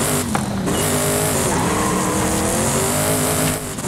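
Unimog truck driving in the racing game Forza Horizon 5, a steady loud engine drone with shifting revs and tire noise, no voices.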